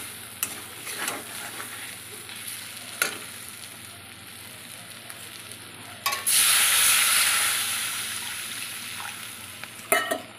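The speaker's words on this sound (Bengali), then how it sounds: "এখানে জিরের গুঁড়ো, ধনের গুঁড়ো, হলুদ আর লঙ্কার গুঁড়ো দিয়ে সামান্য জল দিয়ে এবার কষিয়ে নেব।" Cumin, coriander, turmeric and chilli powder with a splash of water cook in a little oil with whole garam masala for a chicken kofta curry, giving a steady hiss with occasional stirring clatters and a louder surge of sizzle midway.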